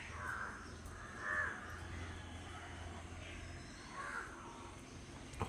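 Crows caw while feeding on ripe jackfruit in a tree on a morning, three hoarse caws spaced over a few seconds, somewhat distant and soft against a low steady hum.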